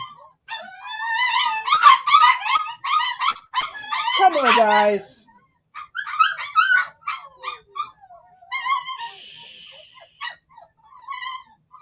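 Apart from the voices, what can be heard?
puppies whining and barking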